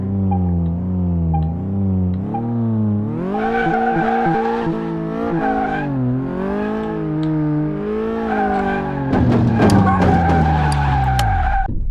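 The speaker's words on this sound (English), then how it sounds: "Just roasting tires." Smart car tires without racing slicks spinning and squealing in Car Mechanic Simulator, a loud continuous wailing screech that rises and wavers in pitch with engine revving, intensifying near the end.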